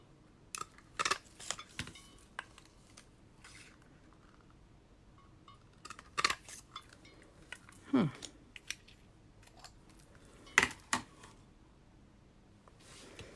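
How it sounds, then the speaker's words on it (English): Scissors cut paper for a handmade birthday card, with scattered snips and rustles, some isolated and some in short clusters, faint and close in a quiet room. "For that one, I do need to cut it. So let me just cut like this much."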